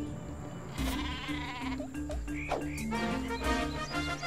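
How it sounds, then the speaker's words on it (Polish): Super Sheep weapon from the game Worms Clan Wars bleating loudly in several wavering, pitch-bending cries over steady game music and effects. "Leć, super owca!"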